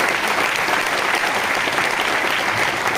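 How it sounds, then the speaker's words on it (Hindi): An indoor audience claps loudly and evenly throughout, a dense wash of applause with no break and no voices rising above it. "मैं चाहूंगा जोरदार तालियों के साथ राजकुमार जी का स्वागत कीजिए।"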